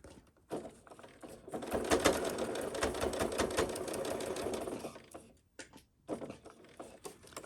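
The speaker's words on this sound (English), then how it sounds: "Then I'm going to hold it with my fingers and sew my little pleats." A sewing machine stitches pleats into a fabric face mask in one sustained run of rapid, close mechanical chatter lasting a few seconds, followed by a couple of brief start-stop bursts.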